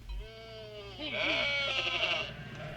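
A sheep bleats a couple of times, a close, wavering cry that rises into a louder, strained bleat, alone with no talk.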